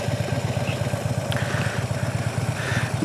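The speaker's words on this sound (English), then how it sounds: "the point where you hear the engine kind of bogged down a little bit here" A motorcycle engine idles with a rapid, even low thump as the clutch is eased into the friction zone with the rear brake held, the note sagging slightly under load; close and steady, no talk.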